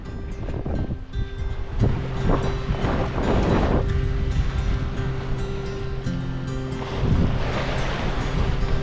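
Water and wind rush steadily past a sailboat moving at about 8.5 knots in the stream, with a constant windy roar and surging wave splashes swelling and easing throughout.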